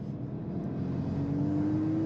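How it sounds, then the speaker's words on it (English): Steady engine drone with a rising turbo whine from a 2024 Volkswagen Golf R with manual gearbox, heard from inside while driving a low-speed street, the intake note building gradually, loud and continuous with no talk. "Turbo noises that this car makes with an intake are worth writing books about"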